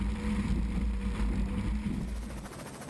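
Racing powerboat engine roaring steadily on board a single-engine V-bottom boat during an offshore Grand Prix race at Morehead City, North Carolina, with heavy wind and water rush, fading slightly toward the end.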